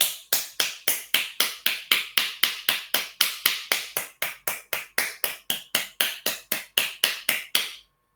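A steady run of about twenty-five loud palm-to-palm claps with fingers held apart, done for an acupressure exercise, evenly paced at roughly three per second and heard alone before stopping.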